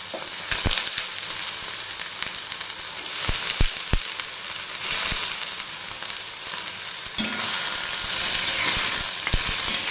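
Cluster beans (gavar) fry in hot oil with ginger-garlic paste, a loud, steady sizzle broken by occasional sharp clicks of stirring, with no talking.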